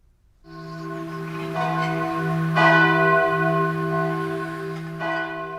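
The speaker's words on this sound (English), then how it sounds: "The bells you hear are ringing to warn the people to evacuate the city" Large bells ring loudly and continuously, their overlapping peals sustaining and swelling with fresh strikes every second or so, with no voices.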